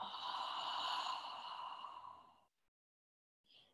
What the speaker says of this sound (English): I will breathe with my mouth open, like a nice deep ha breath.